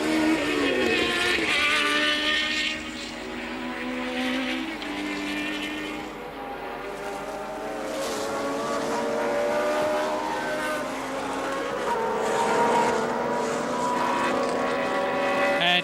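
Reutemann's Williams Formula 1 race car at the 1981 Argentine Grand Prix: a loud, continuous high-revving engine whine that rises and falls through gear changes and stays close throughout.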